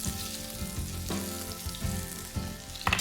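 Celery, ginger and garlic sizzle steadily in hot oil as aromatics for cooking Canada goose, a constant close frying hiss with a few brief pops and some low background tones throughout.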